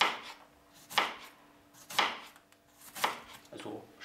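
A knife slices through a quartered white cabbage with its core removed. Four crisp, regular cuts land about a second apart, close and clear with no talking.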